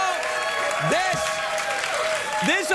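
A late-night studio audience claps steadily throughout, with a sustained musical tone and rising and falling pitch sweeps layered over the applause.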